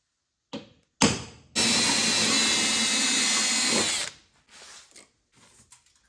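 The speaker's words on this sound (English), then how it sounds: "I'm gonna drill right there." A power drill whirs up and grinds steadily into metal on a Mazda B-Series hood for a few seconds, loud and close, then stops, followed by a few short clanks and rattles.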